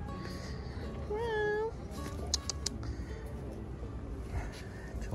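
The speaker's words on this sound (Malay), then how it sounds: "Tapi kat sini memang banyak kucing." A single short cat meow rises and falls, fairly faint against a noisy background with people nearby.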